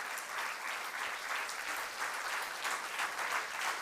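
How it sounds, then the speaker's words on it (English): An audience at a spiritual talk applauds for a woman being introduced, a steady, even wash of many hands clapping throughout, moderately distant. "Let us give her a big round of applause to Sister Seema."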